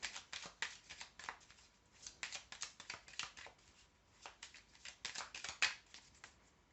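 Tarot cards are reshuffled by hand in a quiet room, giving a series of soft, quick riffling and sliding bursts at close range with short pauses in between.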